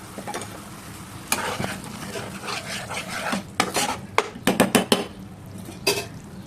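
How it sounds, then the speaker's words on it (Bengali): Pieces of rohu fish go into a pan of fried spice paste, sizzling and crackling with scraping stirs and sharp bursts of frying, loud and close, with no talk. "মশলা কষে আসলে মাছগুলো দিয়ে দেব"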